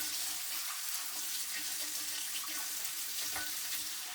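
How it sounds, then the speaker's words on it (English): Running tap water splashes steadily into a kitchen sink while a pressure canner is washed, a continuous close hiss with occasional clinks and no talking. "the first thing I'm going to do is give it a really good wash."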